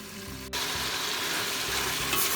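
Fresh green beans are dropped into hot olive oil in a pan, and a loud sizzle bursts in at once and then holds steady, close and continuous, with faint stirring beneath and no voices.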